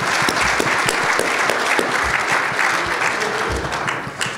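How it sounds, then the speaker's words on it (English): An audience at a business association's annual address gives a full round of applause, thick continuous clapping that holds steady and eases slightly at the end. "Let's give these folks a round of applause if we could."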